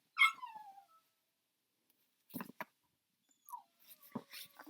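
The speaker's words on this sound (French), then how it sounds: "C'est vrai que c'est un chien très très malheureux en plus." An unhappy dog gives a short, rising whimper up close, followed by a pause and then scattered faint yips and rustles.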